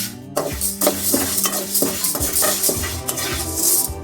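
Chana dal dry roasting in a pan for drumstick-leaf idli podi, a spoon scraping and clattering continuously as the lentils are stirred, with rattling grains and metallic knocks at close range.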